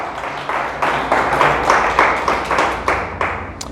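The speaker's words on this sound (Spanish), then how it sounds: "Le damos fuerte el aplauso al Señor" A church congregation claps together in a rhythmic, steady beat, about two claps per second, loud and close, with no talking.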